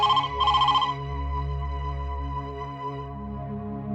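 A telephone rings loud and close in a Hindi TV drama scene, an electronic ringtone with a bright warbling burst at the start followed by a sustained tonal tone, alone with no talk.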